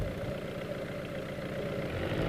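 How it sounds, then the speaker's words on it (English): A 1992 VW Golf 3 with the Ecomatic system idles steadily, a low continuous engine rumble held at an even level with no speech over it. "the engine idles for 5 seconds before switching off"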